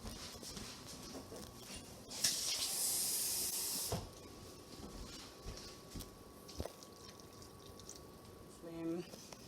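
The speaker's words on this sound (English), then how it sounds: "So I'm going to add a little bit of water." Water is poured into a hot pan of masala dosa potato stuffing, giving a loud sizzling hiss for a couple of seconds that then settles into quieter bubbling and clinks, with a person talking.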